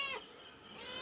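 A single short cat meow at the start, moderately close, followed by quiet room background.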